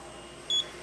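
A digital height gage gives one short, clear high-pitched electronic beep while measuring a hole diameter, standing out above a quiet steady background hum.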